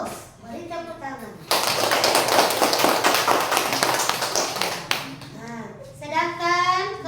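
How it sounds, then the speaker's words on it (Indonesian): A group of schoolchildren in a classroom bursts into loud, sustained clapping for a few seconds, framed by an adult teacher speaking before and after. "Beri tepuk tangan."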